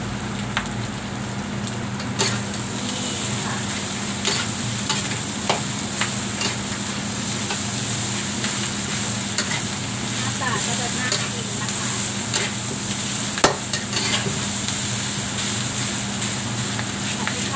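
Rice with MSG, sugar, Rosdee seasoning and oyster sauce is stir-fried in a pan, a steady low sizzle with occasional scrapes and clacks of a spatula, while someone talks over it.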